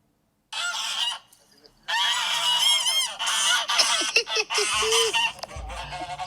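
Geese honk loudly and repeatedly at night around an open-sided shelter in Iraq, a dense, continuous chorus of overlapping calls after a brief quiet spell, close by and filling the space.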